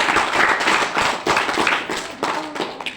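Loud, lively clapping from an audience at an Indian business marketing seminar, many hands striking together in an uneven, continuous burst with no talking.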